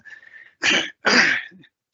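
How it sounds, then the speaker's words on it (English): Two harsh coughs in quick succession, close and loud, with a faint raspy breath before them. "I've had one of these 100-day coughs which will not go away"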